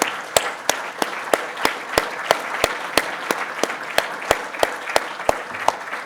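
Audience at an athletics hall of fame ceremony applauding in a hall, a steady sustained round of clapping punctuated by sharp regular claps close to the microphone.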